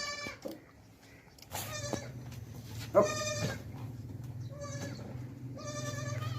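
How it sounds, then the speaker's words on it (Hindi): Several white Nagri goats bleat on a goat farm, with repeated loud, harmonic calls that overlap one another against a steady low rumble of farm background noise. "ये आप देख सकते हैं कि नागरी बकरी है, सफ़ेद नागरी"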